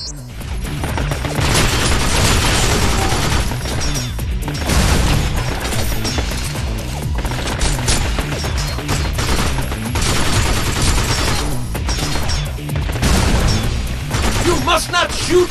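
Binary Domain gunfire on Xbox 360, sustained machine-gun bursts and rapid fusillades with heavy booms and crashes, loud and continuous through a firefight, with voices speaking over the shooting.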